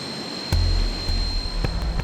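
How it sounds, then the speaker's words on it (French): Atlantique II reconnaissance aircraft flying over northern Mali, a steady broad engine roar overhead with faint intermittent thumps and a thin high whine running throughout. "Des avions Atlantique II, bourrés de matériel de détection, commencent à survoler à partir du Sénégal l'immensité du Nord Mali"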